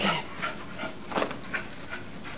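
A puppy whimpers and yips in short, high, repeated cries at close range, with no talking over it.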